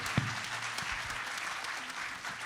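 An audience at a French round-table congress session claps in a brief, dense burst of applause that carries on evenly for the whole moment.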